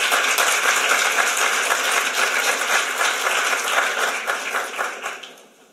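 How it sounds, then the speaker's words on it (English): Audience applause at an early education innovation challenge event, a dense steady wash of clapping that holds for several seconds and then fades out toward the end. "I'd like to start by having you all give a round of applause to our finalists who are all sitting right over here."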